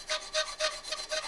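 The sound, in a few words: filing a knife guard slot with a file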